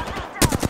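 Rapid automatic gunfire from a video game shooter, a quick burst of sharp close shots that grows louder partway through.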